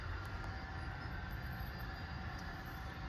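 An HO scale model train runs along a layout with a steady, continuous rolling hum and faint metallic wheel whine, with no talk over it.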